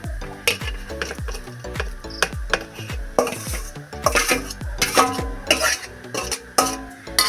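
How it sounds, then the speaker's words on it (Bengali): A metal spatula clatters busily in a pan while vegetables are stir-fried with garam masala, coriander, cumin and fennel for veg chow mein, close rapid scrapes and knocks over a light sizzle. "দিয়ে আমি ভালো করে এটাকে ভেজে নেব"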